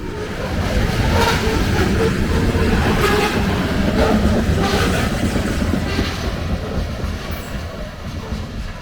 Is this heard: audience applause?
no